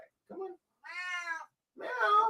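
A house cat meows three times in close succession, each call short, clear and close by, separated by brief silences.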